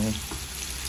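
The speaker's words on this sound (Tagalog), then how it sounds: "ngayon bali mag-start na tayo mag-gisa" Onions sautéing in hot oil, a steady close sizzle with a broad hissing texture throughout the short moment.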